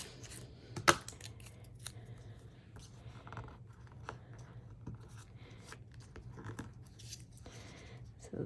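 Paper being trimmed for a photo craft: a sharp scissor snip near the start followed by soft rustling and handling of paper over a low steady background hum.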